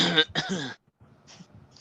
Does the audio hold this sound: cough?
yes